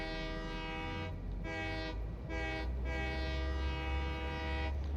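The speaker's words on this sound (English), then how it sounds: "When you get in the train, you have to honk the horn." A video game train horn blasting in four long, loud tonal honks separated by brief gaps, over a low rumbling rail drone.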